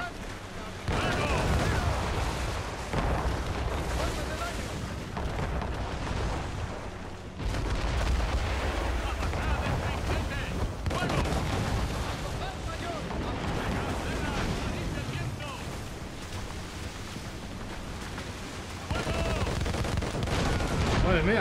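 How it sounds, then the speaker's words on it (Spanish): A sailing ship fires mortars in Assassin's Creed Rogue: dense rumbling booms and volleys roll over continuous wind and ocean noise, loud and sustained, with voices shouting over the battle. "¡Debemos disparar los morteros, capitán!"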